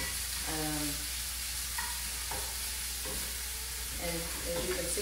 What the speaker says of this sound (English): So I'm just gonna stir this around for a couple minutes.